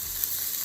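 Peppers, onion and garlic sautéing in butter and canola oil in a pan, giving a steady, even sizzle with no break across a short moment and no voices.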